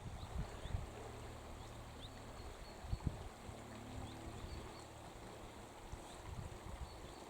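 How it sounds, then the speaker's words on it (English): A river runs beside a walking path in the Yorkshire Dales, giving a steady wash of flowing water with occasional soft bumps and gusts of wind close by. "we're at the side of the river again now"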